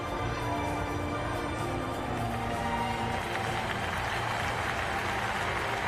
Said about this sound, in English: Relishing the huge crowd